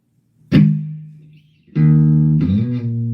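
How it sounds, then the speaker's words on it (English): An electric guitar plays through an amplifier with spring reverb. One struck chord rings out and fades, then a second chord sounds and is held with a shimmering tail, all alone and close. "This has great spring reverb."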